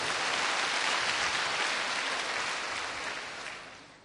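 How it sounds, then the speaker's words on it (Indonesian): A church congregation applauds, filling the room with dense, loud clapping that fades slightly toward the end. "tepuk tangannya paling meriah buat Allah kita"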